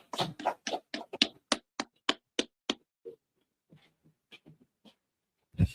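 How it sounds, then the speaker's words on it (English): A group claps together in a steady run of about ten sharp, loud claps, followed by a few softer, scattered taps and one last thump. "Clap it up."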